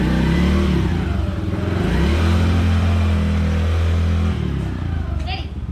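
A Yamaha Grizzly 90 ATV engine revs loud and close, pitch stepping up and down through several rises, with people talking over it.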